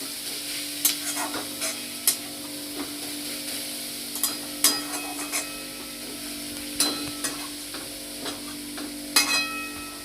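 Radish bori sizzles steadily as it fries in a pan, with repeated scraping stirs breaking through the hiss at irregular intervals, close and clear, with no talking.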